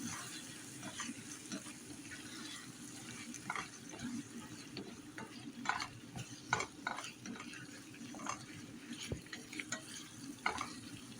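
Corned beef and hotdogs are stirred in a frying pan, giving a soft, continuous sizzle with repeated scraping and clinking of the utensil against the pan, fairly quiet and close.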